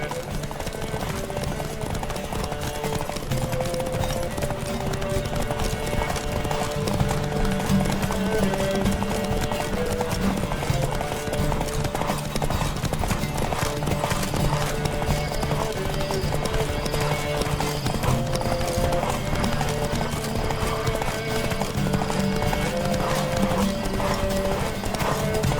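Galloping horse hooves in a Witcher 3 race pound in a steady, continuous clip-clop under game music, with an occasional whinny; a voice speaks briefly.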